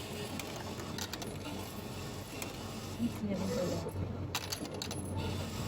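Coins dropped into a cash payment machine in Japan, a few light metallic clinks and rattles over a machine's hum, with a recorded voice prompt speaking nearby.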